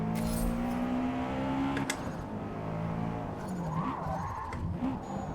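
A Subaru's tyres skid with brakes locked in a racing video game, the loud squeal sliding over the engine drone and then easing into rougher tyre noise and revving.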